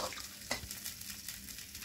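Vegetables sauté in a pan for a koi fish curry with potato, giving a soft, close crackle with brief stirring scrapes, quiet and without speech.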